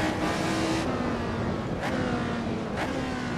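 A Lotus 72 Formula 1 race car in the Assetto Corsa racing game howls loudly and continuously, its high-revving engine held in a long first gear, with a couple of brief dips in pitch along the way.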